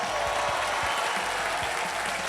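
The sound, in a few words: studio audience applause on game show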